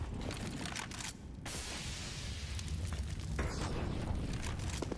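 In a PUBG esports match, a thrown grenade bursts with a loud, broad explosive roar that briefly drops out and then continues as a lingering, crackling rumble.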